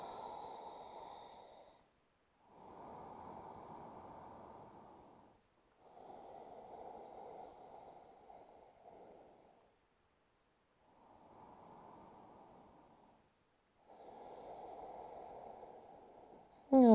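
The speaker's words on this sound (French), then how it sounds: "profitez-en pour rentrer dans la respiration Ujjayi" Ujjayi yoga breathing during an advanced practice, heard as slow, audible ocean-like breaths through a constricted throat, five or six long hissing inhalations and exhalations with short pauses between them, close and steady.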